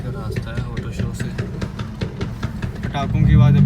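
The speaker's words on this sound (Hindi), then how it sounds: "पटाखों की आवाज़ अभी भी आप सुन सकते हैं।" A modified Suzuki Swift at an auto show in Lahore idles and rumbles close by, its exhaust giving off a run of sharp popping bursts that build louder toward the end, with voices talking over it.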